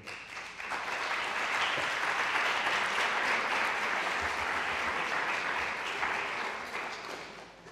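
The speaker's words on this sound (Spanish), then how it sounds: "pedirles a todos ustedes pues, un aplauso de bienvenida" An audience at a lecture on Cervantes breaks into welcoming applause for the speaker, swelling quickly to a full, dense ovation of many hands, holding steady, then tapering off toward the end.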